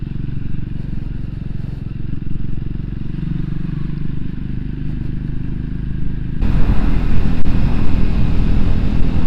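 A Triumph Scrambler 400x motorcycle rides along a road in North Wales on a summer evening. A steady engine drone sits under heavy wind buffeting and grows louder and rougher partway through.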